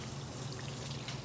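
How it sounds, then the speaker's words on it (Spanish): Water poured onto a potted plant, a soft, continuous trickle and splash, quiet and close, with no talking. "aquí andamos echándole agua a la planta."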